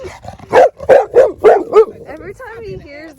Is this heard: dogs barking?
yes